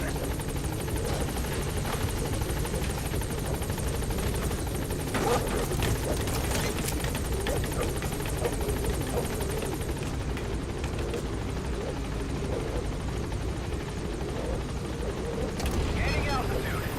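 Pequod transport helicopter arriving at a landing zone in the video game Metal Gear Solid V, a steady whirring rotor drone held under radio voice chatter at moderate loudness throughout.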